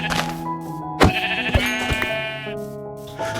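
Minecraft sheep bleat loudly and close in several overlapping wavering cries, each starting abruptly, with a steady game background underneath and no speech.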